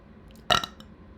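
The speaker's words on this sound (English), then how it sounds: "Burping already." One loud, close burp with a sharp onset and a short rough tail, standing alone against quiet room background.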